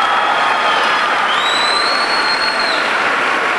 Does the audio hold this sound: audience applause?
yes